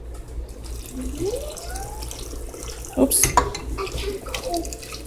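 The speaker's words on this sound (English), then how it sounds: "now I'm going to go ahead and add the chicken broth to the mixture" Chicken broth is poured into a tamale mixture, making a running, splashing liquid sound close by. A short spoken exclamation is heard in the middle.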